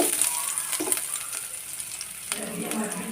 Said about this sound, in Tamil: வெங்காயம் தக்காளி பச்சை மிளகா இது வந்து நல்லா நல்லாவே இது பண்ணிக்கோங்க நல்லா வறுத்துக்கோங்க